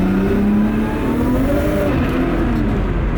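Nissan Skyline R32 with an RB25DET engine revving hard, loud and close, the pitch climbing and holding high as it spins up, with no talk over it.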